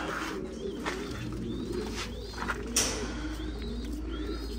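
Soft pigeon cooing and bird calls repeat through a steady low hum, with a few brief chirps and one sharper call near the middle, fairly close and without speech.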